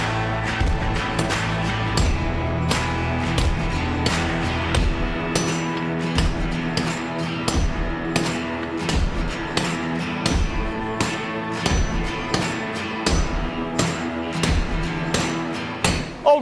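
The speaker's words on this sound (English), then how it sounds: "I am having Matt strike on the peen end" A striker hammers a flatter on hot steel at a forge while a ball-peen hammer is shaped, giving a long run of sharp, ringing metal blows in a steady rhythm with no talk.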